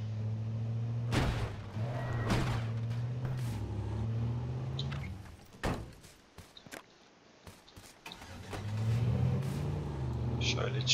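A damaged car in the survival video game H1Z1 rumbles along with a steady low engine drone, broken by sharp bangs and impacts, dropping away briefly before revving back up.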